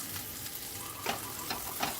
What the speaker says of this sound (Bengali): উলটপালট করে দিচ্ছি, যাতে ওপর পোর্শনটা ভাজা হয়ে যায়।